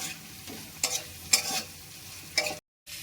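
Okra being stirred in a pan with roasted cumin and dried chili powder, soft scraping strokes over a low fry with a few sharper clinks, then a brief pause.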